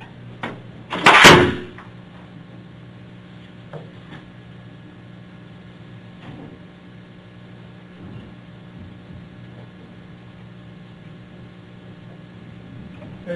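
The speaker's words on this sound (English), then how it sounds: "Can you close the door, please?" A single loud door closing with a sharp slam, near and brief, followed by a quiet room hum with faint scattered knocks and no talk.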